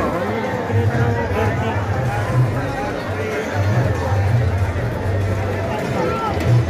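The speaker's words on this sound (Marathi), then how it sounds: "गर्दी बघा किती" A large crowd of pilgrims fills the air with dense, continuous chatter and babble, close and loud, with overlapping voices and footsteps but no single clear speaker.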